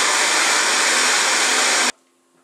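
Corn soup whirring in an electric blender, a loud, steady high-speed drone that holds evenly for nearly two seconds and then cuts off abruptly to near silence.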